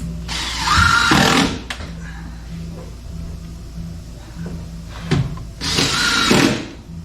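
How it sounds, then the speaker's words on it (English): Power drill driving screws to fix expansion strip supports under a cradle, two loud close bursts of whirring a few seconds apart, with a low steady hum between them. "you can screw them underneath to the cradle in place, like so"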